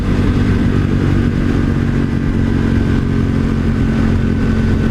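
A 2018 KTM 1290 Super Duke motorcycle accelerating hard in first gear, a loud continuous engine roar held close and steady throughout, with no voices over it.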